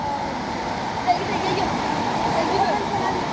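Floodwater rushing fast near a railway station during flooding in Sylhet, a steady broadband roar of flowing water that continues unbroken and fairly loud throughout, with no clear voices over it.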